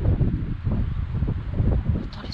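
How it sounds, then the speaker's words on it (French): Steady wind coming off the Saint Lawrence River buffets the microphone on a winter afternoon, a continuous low rumbling gust with rustling, faint high chirps near the end. "Je sens ce petit vent qui passe par derrière, qui vient directement du Saint-Laurent."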